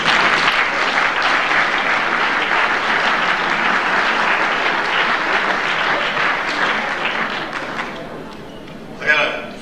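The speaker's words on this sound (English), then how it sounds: "I'd like a round of applause for these gentlemen." An audience at a school fall sports awards night gives a long, full round of applause for an undefeated junior varsity team, sustained clapping that thins toward the end with a brief louder burst near the close.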